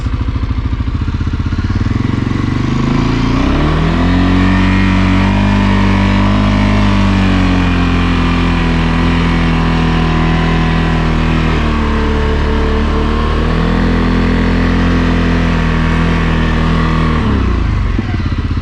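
A 2023 CFMOTO CForce 600 ATV engine drones loud and close while riding, a steady low hum that rises in pitch as it accelerates, holds level for several seconds, then drops away near the end, with no voices.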